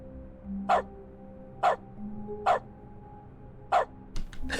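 Four distinct dog barks from the dog mode of The Stanley Parable video game, evenly spaced and moderately loud over a low game hum, with a few quicker yips at the end.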